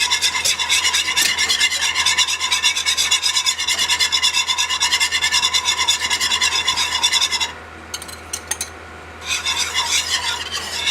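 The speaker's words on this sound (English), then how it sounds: "we're going to add in our flour. And you want to be continuously whisking so that you don't get any clumps" A whisk scrapes steadily through flour stirred into a Marsala sauce roux, a loud, close, rapid rasping rhythm that drops away briefly before resuming.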